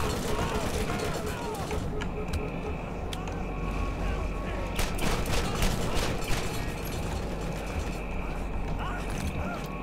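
Rapid gunfire with incendiary fire rounds in the shooter Borderlands, dense and continuous with mechanical clatter and scattered sharp cracks, a voice talking over the shooting.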